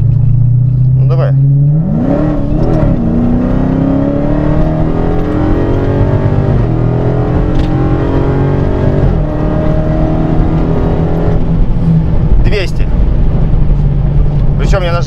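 Dodge Challenger Hellcat with over 700 hp accelerating hard on an uneven airfield surface, a loud, close engine roar climbing steadily in pitch through the gears over about fifteen seconds, with brief bursts of voice over the engine.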